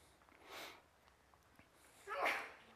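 Two quiet sneezes, one short and then a stronger second burst, sound at a distance in an otherwise hushed room during a sermon.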